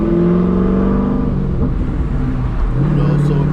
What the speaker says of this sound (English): I'm driving the car here. We got the cam installed